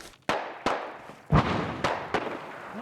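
Gunfire in the video game Fallout London: five or six sharp, heavy reports spaced unevenly about half a second apart, each with a short reverberant tail, fairly loud over a low ambient background.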